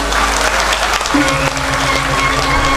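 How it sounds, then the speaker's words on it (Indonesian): An audience applauds at a Balinese drama gong stage performance at an arts festival, a loud continuous wash of clapping with a low hum underneath and faint tonal sounds from the stage. "Tepuk tangan dulu."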